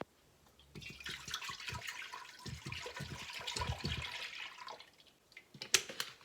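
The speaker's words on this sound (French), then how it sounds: "On va verser notre lait." Cow's milk pours into a cooking pot for homemade cheese, a steady close liquid rush lasting several seconds, trailing off into a few faint drips and clinks.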